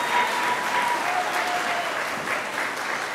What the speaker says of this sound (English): a great round of applause